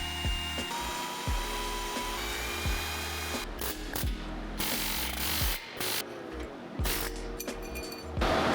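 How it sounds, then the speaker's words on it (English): A drill whines in repeated bursts, pitch rising and dropping as it bites into metal drilling out spot welds on a Lexus GX460, with short pauses between passes. "We're gonna go ahead and drill those out"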